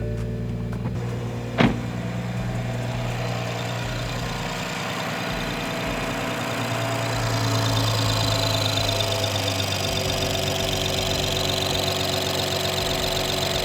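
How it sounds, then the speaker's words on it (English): A BMW B58 straight-six with newly fitted, reprogrammed fuel injectors cranks and fires with a sharp catch, then settles into a steady, even idle that hums on close by with no voices. "start it up for the first time with the new injectors, with the new programming"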